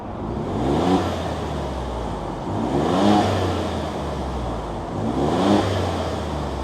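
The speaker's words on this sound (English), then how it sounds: "why don't I fire it up, hear what that V6 sounds like" Three loud revs of a 2025 Ford Bronco Stroppe Edition V6 rise and fall about every two seconds over a steady engine rumble, close by with no talking.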